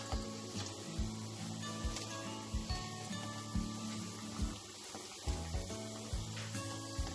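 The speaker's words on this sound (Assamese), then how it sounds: "এয়া মই গোটেইখিনি ভাজি ল'ম।" Lentil (masoor dal) fritters frying in hot oil: a constant, hissing sizzle punctuated by soft, regular low thumps, close and moderately quiet.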